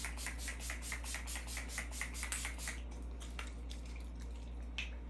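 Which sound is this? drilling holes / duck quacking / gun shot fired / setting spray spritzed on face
setting spray spritzed on face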